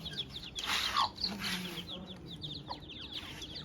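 A farm hen with six chicks, soft repeated clucks mixed with a stream of high thin peeping calls from the chicks, close and fairly quiet, with no talking.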